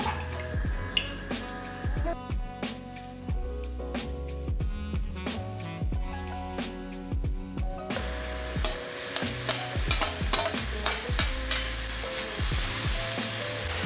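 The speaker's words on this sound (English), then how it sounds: "In a pan, add 2-3 tablespoons of olive oil and in goes the onion to saute for" Onion sautéing in olive oil with peppers in a pan, a continuous sizzle broken by rhythmic stirring scrapes, with a tonal musical backing running through the middle section and no talk.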